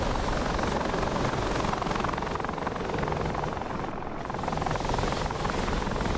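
AH-64D Apache helicopter rotor in DCS, flying in combat over Syria with rotor RPM running high: a loud, dense, steady thudding drone that fills the whole stretch, close and unbroken.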